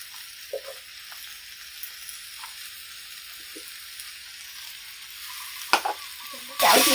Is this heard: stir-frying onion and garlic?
yes